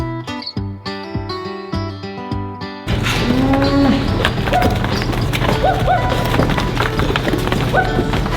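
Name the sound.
cows mooing on a farm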